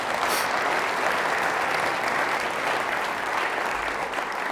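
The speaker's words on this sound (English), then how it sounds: "Let's give him a round of applause." Audience applause for Frank Scartatos at a city State of the City address, a steady, dense wash of clapping filling the hall, loud and continuous throughout without any voices over it.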